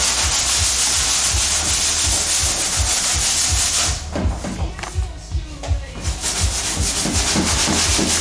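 Hand sanding a car body kit for a kaido racer, a steady close, loud rasping rub in repeated strokes that briefly slows and pauses midway before resuming.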